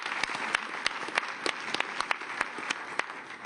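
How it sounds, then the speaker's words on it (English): Audience applause at a Davos panel on climate and nature, a steady moderate clatter of many hands with sharp individual claps standing out, heard from the room. "giving them a big round of applause"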